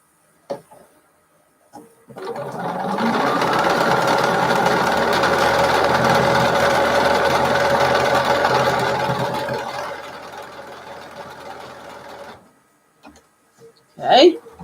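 A sewing machine stitching fabric for a Dear Jane quilt corner block runs steadily for about ten seconds with a rapid, even whirring hum, starting and stopping abruptly, close and fairly loud, with brief handling noises around it.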